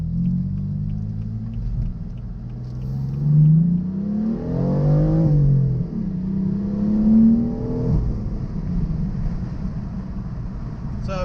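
A BMW M3 engine revs and accelerates under throttle on a street drive, its low rumble climbing in pitch, dropping back briefly, then rising again through successive pulls, loud and close with no talking.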